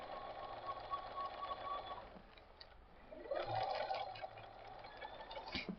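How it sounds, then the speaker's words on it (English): A domestic sewing machine stitches a quilt along a marked line, its steady mechanical whir running in two continuous bursts with a short pause between, fairly quiet and close. "When you sew, you're sewing right on that line."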